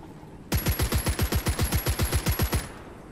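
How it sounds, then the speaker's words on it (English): Automatic weapon fire in the WWII strategy game Gates of Hell, as one long rapid machine-gun burst of about twenty evenly spaced, loud, close shots lasting around two seconds, with no talk. "Someone from the right is shooting on my guys all the time"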